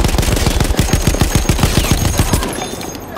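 Enemy machine gun in the video game Battlefield 1 firing a loud, rapid sustained burst of evenly spaced shots that tapers off near the end, with battle noise around it.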